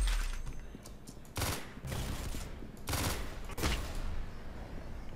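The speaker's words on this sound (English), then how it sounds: "Yeah, that was a railgun." Sharp gunshots crack out in the Roblox Arsenal shooter game, three loud bursts spaced about a second apart over a low background din.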